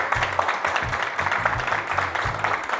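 Studio audience applauding to welcome a guest onto a talk show set, continuous close clapping that holds at an even level throughout.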